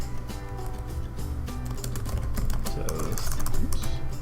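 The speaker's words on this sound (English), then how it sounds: "Terrible typing." Rapid typing on a computer keyboard, with close, steady, irregular key clicks running throughout at moderate loudness and no talk.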